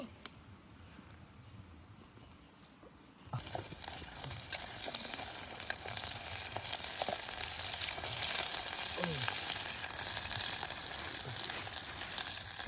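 Curry paste and coconut milk stir-fry in a pan outdoors, starting quiet, then a sudden loud, steady sizzle with stirring scrapes, and faint insect chirps in the background.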